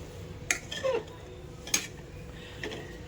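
Crushed green pigeon peas roasting in oil with ginger-chili paste, stirred in a pan: two sharp utensil scrapes and clinks over a low steady sizzle, close and moderately loud, with no talk.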